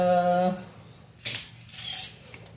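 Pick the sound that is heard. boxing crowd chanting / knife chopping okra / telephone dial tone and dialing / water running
knife chopping okra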